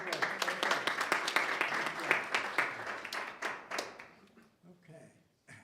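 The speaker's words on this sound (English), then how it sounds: "Another round of applause." Audience members at a board of education meeting clap in a room, a steady round of applause with distinct individual claps that tapers off and gives way to a speaking voice.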